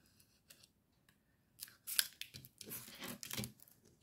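Scissors cut through laminated plastic sheets in several quick close snips. Crinkling and rustling of the plastic comes between the cuts, and the setting is otherwise quiet.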